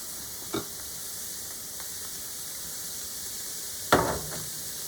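Ground beef frying in a pan gives a steady close sizzle, broken by two sharp clatters of utensil against the pan, the louder one near the end.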